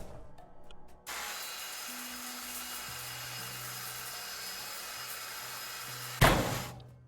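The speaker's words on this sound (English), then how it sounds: "Couple minutes with the saw blade, as opposed to the hours that we've spent swinging the hammer." Saw blade cutting through ship scrap in Ship Graveyard Simulator 2, a loud, steady grinding whine that runs several seconds, then a sharp harsh burst near the end before tapering off.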